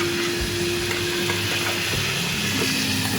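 Sauce of coriander, garlic and ginger sizzling steadily in a pan, a close, even frying hiss with a faint background hum and occasional soft clicks.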